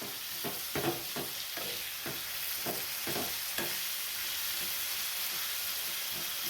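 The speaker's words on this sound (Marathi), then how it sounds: "पहा अशी आता याला मिक्स करून घेऊयात आपण" Chilli masala frying in a pan with a steady sizzle, broken by a series of scraping spoon strokes during the first few seconds as it is stirred, then continuing to hiss evenly.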